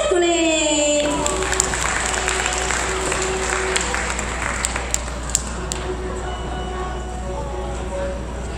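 An outdoor audience claps at a wind band carnival concert in a Taoyuan park, loose and fairly distant applause following a held tone at the start, with a low steady rumble beneath.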